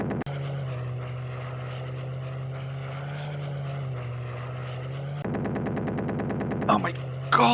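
Retro Amiga game Wings of Fury plays a steady droning propeller-plane engine tone, then a rapid rattling burst of machine-gun fire toward the end.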